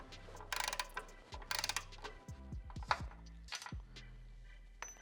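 A driver bit turns a bolt while rock sliders go onto a Rivian R1T/R1S: quiet close ratcheting clicks and short whirring bursts come in several spurts with brief pauses, and there is no talking.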